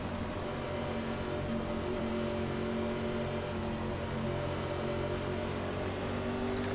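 Race car engine in the NASCAR iRacing video game holding a steady droning tone, a constant hum with faint whine, loud and alone.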